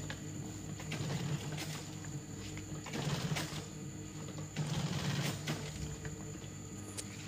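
A sewing machine stitches the fabric hood of a four-stroke rickshaw, running in steady close-up bursts that swell and ease in a repeating rhythm against a constant background hum.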